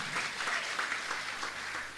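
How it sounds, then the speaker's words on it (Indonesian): A church congregation gives a round of applause, a steady wash of many hands clapping together at moderate volume for a couple of seconds. "Berikan tepuk tangan."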